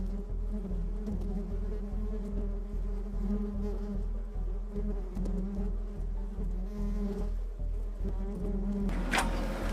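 Bees buzz steadily nearby, a droning hum that pulses in a regular rhythm, moderately loud and continuous.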